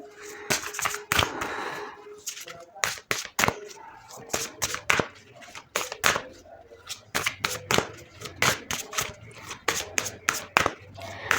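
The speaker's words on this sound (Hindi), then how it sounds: "मैं थोड़ा से ऑरेकल कार्ड्स को ले लेती हूँ" Oracle cards handled and shuffled, a run of sharp riffling snaps and flicks in quick irregular bursts, close and crisp, with soft talking between the shuffles.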